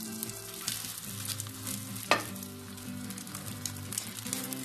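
Stale bread sizzles in melted butter in a pan as a quick pan börek is prepared. The frying hiss is steady and close, with one sharp clink midway, and no talking.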